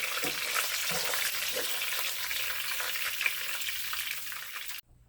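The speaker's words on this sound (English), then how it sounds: "I will start frying my flour in the oil" Flour sizzles and crackles in hot oil with a steady hiss while being fried for pork chop gravy, a few soft stirring knocks, ending abruptly.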